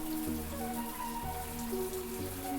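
Water sprays steadily from a newly installed shower column, falling like rain in a continuous hiss with a low background hum and no talk.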